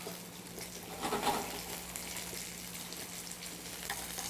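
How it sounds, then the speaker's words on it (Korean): Garlic and cabbage stir-fry in oil with a low, steady, faint sizzle, plus a slightly louder scraping burst early on and no speech. "노릿노릿하게 될 때까지 볶아주세요."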